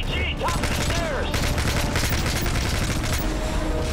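Sustained rapid gunfire from squadmates laying down cover fire across a courtyard during the fall of Paris in the Modern Warfare 3 video game, dense overlapping rifle bursts continuing nonstop with faint shouting mixed in.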